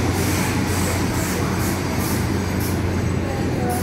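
A Taiwan Railway DR2800 diesel multiple unit train, nine-car formation, rumbling past close by with a steady, loud roar and faint wheel clatter.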